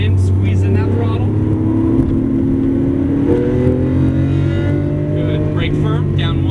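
Lamborghini Aventador with all-wheel drive accelerating on a racetrack, a loud steady engine note that climbs in pitch as it builds speed, heard from close inside the car, with a voice coaching over it.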